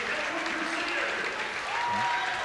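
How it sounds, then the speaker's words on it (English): Crowd applause at a girls' basketball sectional final honoring Madison Edgewood, the Crusaders, receiving their plaque; steady gym-wide clapping with tonal hums and a faint announcer-like voice in the background. "Very much deserved applause for Madison Edgewood, the Crusaders, getting their plaque to hang on the wall over there."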